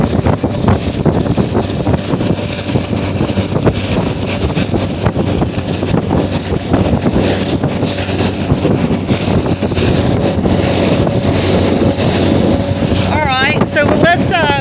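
A 2024 Bass Tracker XL boat running its 50HP Mercury outboard at speed in open water, a loud continuous motor drone mixed with heavy wind buffeting and water rush throughout.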